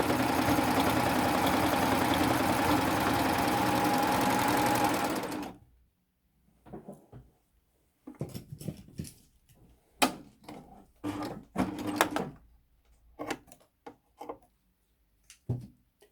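A sewing machine stitching the side of a pair of shorts runs in one fast, steady buzz for about five seconds, close and loud, then stops, followed by scattered handling taps and rustles.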